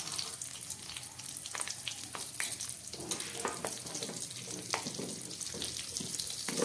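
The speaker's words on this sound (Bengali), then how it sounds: "এবারে দিয়ে দিচ্ছি 3-4টে কাঁচা লঙ্কা।" Green chillies frying in hot oil in a home kitchen, giving a steady, quiet sizzle with scattered small pops and crackles, close by, with no voices.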